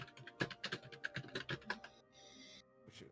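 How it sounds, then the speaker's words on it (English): Rapid keystrokes on a computer keyboard, quiet and in the background, a run of irregular clicks followed by a brief pause and a few more taps. "I hear some curious typing in the background"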